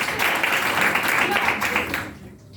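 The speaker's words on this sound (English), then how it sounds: "Clap for it." A classroom of students clapping together in a brief burst of applause, steady and fairly close for about two seconds before quickly fading out.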